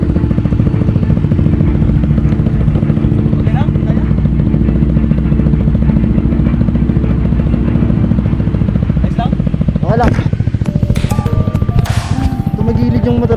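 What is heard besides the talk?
motorcycle riding on rough mountain dirt road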